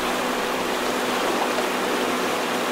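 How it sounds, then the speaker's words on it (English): River rapids in Call of the Wild: The Angler, a dense, steady rush of water, loud and continuous with no other sounds over it. "Oh, is this another little bit of a rapid?"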